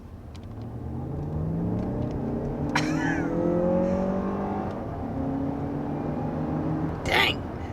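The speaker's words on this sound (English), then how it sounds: "that's a little bit of fake noise being pumped into this cabin" A 2023 Lexus RX 500h F-Sport accelerates hard from inside the cabin, its engine note, partly synthesized through the speakers, rising in a steady climb of pitch, with a brief sharp noise near the end.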